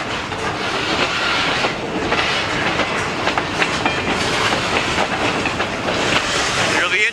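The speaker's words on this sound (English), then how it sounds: "This train is going to Pembine" A freight train rolls past on railroad tracks bound for Pembine, a steady loud rumble with clickety-clack of wheels over rail joints and some hiss, continuous and close throughout.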